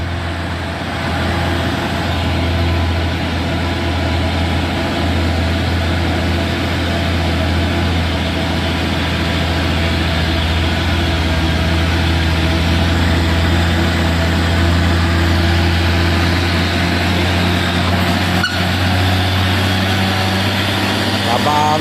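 A tank truck's diesel engine labours on a steep uphill road, a loud, steady low drone with constant heavy rumble that holds for over twenty seconds.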